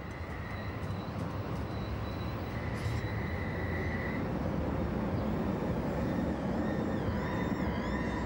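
An eight-axle Duewag M8C articulated light rail tram rolls past on a Heidelberg street, a steady close rumble of wheels with thin high-pitched squeals rising and falling over it throughout.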